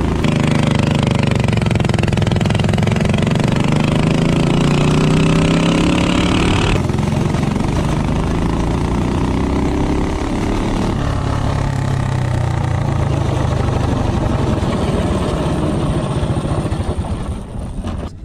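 Minibike engine with a higher-compression head gasket revving hard and close during a 0 to 30 acceleration run, the pitch sweeping upward through gear changes before easing off near the end.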